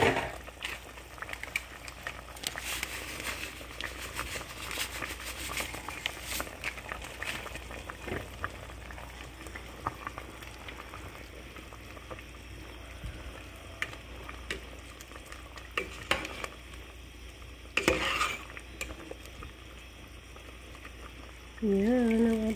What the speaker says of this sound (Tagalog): Pakulan natin ng konti